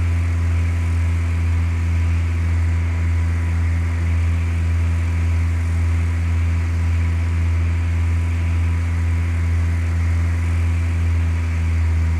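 Steady drone of a simulated light airplane engine in Flight Simulator 2004, a constant low hum with no change in pitch, continuous and alone.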